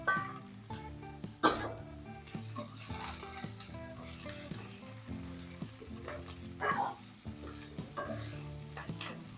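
Okra and cucumber for avial are stirred in a sizzling pan: continuous frying hiss with repeated scrapes and light utensil clinks, with music playing underneath.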